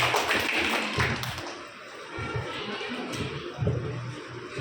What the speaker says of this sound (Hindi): एक बार जोरदार तालियां हमारे मुख्य अतिथि जी के लिए।